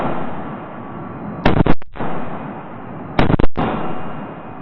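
Two loud rifle shots, each a sharp blast with a quick echo, from a 5.56 rifle fitted with an OSS Bannar Alpha 1 flash-hiding muzzle brake, fired about two seconds apart outdoors over steady background noise.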